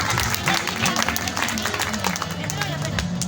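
Wedding guests clap together in a loud, continuous patter that blends with crowd chatter and a voice talking over it, the clapping dense and steady throughout.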